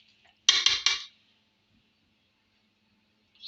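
A spoon clinks and scrapes in a bowl while lasoda (gunda) pickle ingredients are mixed, a quick burst of three or four sharp metallic knocks followed by silence.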